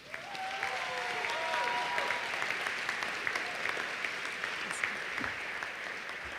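Audience applause at a Sherman College commencement ceremony: a steady, dense wash of clapping from a large crowd that runs evenly from start to finish.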